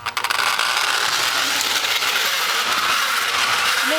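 A vintage Lionel No. 52 fire car runs around a model train layout, giving a steady, close mechanical whirring and rattling with a brief clatter at the start.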